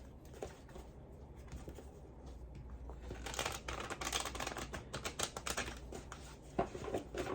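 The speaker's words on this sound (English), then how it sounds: "I'm gonna do a quick shuffle of the Hermit Tarot deck." A Hermit Tarot card deck is shuffled quickly, its riffling and slapping card noise growing denser and louder after the first few seconds, steady and close with no talking.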